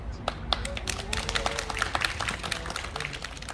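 An audience at a Gasan-dong residents' meeting on backing redevelopment claps in a steady, dense patter of many hands, with a voice talking over it.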